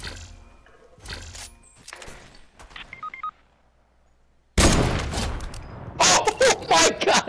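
Gunfire in a video game: faint mechanical clicks and rattles give way to a sudden loud broadband blast, then a cluster of sharp, close shots near the end.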